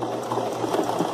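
A sewing machine runs a short, quick burst of stitching along the seam of a regular zipper, its rapid mechanical whir close and alone.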